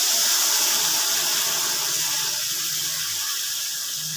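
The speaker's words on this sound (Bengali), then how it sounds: "এবার আমি এক বাটি জল দিয়ে দিলাম।" A bowl of water is poured into a simmering fish curry with potatoes and spices, giving a loud, close, continuous rushing splash that holds steady for a few seconds, with no voices.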